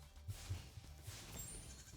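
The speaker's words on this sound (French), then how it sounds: "Voilà, on a un petit mouton." A sheep bleats quietly a few times in Spyro 2, with short, faint calls over a soft game background and no talk.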